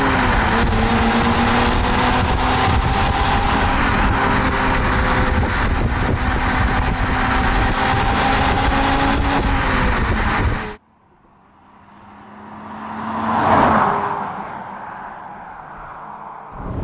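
An MG ZT-T 190 estate car drives under load, its engine droning steadily and rising in pitch with gear changes for about ten seconds, then the interior falls quiet before a brief engine swell.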